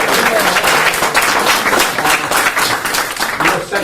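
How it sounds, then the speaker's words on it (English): A conference audience at the Scalia Conference applauds its speakers after a question-and-answer session: loud, dense, steady clapping filling the room throughout, with no break. "let's give an applause to our speakers"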